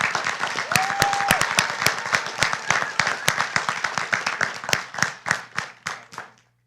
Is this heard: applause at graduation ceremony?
yes